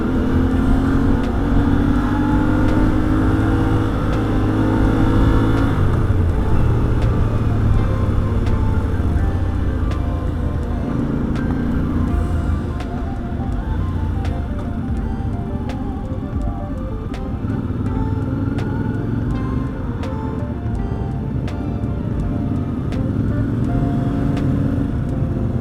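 A CF Moto Ibex 450 motorcycle engine runs with a steady, fairly loud drone and rising and falling revs, with no talk over it.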